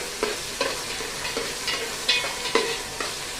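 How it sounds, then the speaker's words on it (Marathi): Ginger garlic paste being stirred into veg pulao frying in a pan, a soft sizzle beneath a series of distinct spoon scrapes at an uneven rhythm, with no talking. "आलं लसूण पेस्ट याच्यामध्ये घालायची आहे. छान हलवून घ्यायचं."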